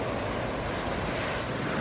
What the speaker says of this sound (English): Some beautiful waves washing up on the beach.